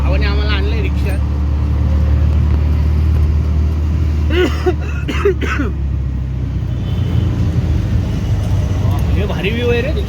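Auto-rickshaw ride in Thane near Mumbai, a steady engine rumble and road noise running throughout, with passing traffic and a few voices talking over it.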